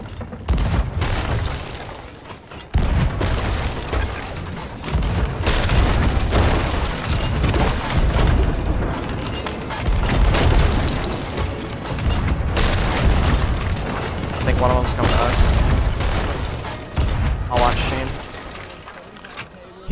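Ship cannons firing in a naval battle in the Sea of Thieves game, repeated heavy booms in a loud, continuous barrage of combat noise, with players shouting over it.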